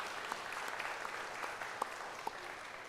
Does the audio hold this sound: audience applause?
yes